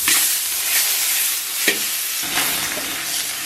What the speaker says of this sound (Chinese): 简单煸炒一下